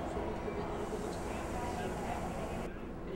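A Long Island Rail Road train pulling out of the station, a steady broadband rumble and rolling roar sustained throughout at fairly close range, with no voices over it.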